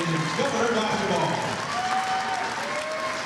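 A crowd gives steady, warm applause for senior players at a high school basketball game, a dense wash of clapping filling the gym throughout.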